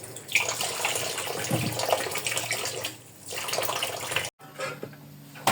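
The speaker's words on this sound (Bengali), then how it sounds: "এখানে এখন আমি তরমুজের খোসাগুলোকে সুন্দর করে ধুয়ে নিচ্ছি।" Watermelon rinds are rinsed under a running tap, giving a steady close splashing stream that briefly softens and cuts out once before resuming.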